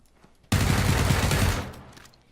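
A sudden burst of rapid gunfire erupts in a video game, loud and dense for about a second before tapering off, preceded by near silence.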